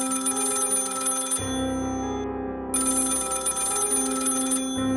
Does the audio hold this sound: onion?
no